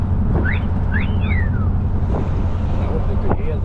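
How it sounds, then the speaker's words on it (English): A wolf whistle horn on a 1956 Ford Sunliner Custom convertible sounds two rising-and-falling whistle calls, loud and close over steady engine and road rumble. "Got a wolf whistle in there. You had to have that in the 50s."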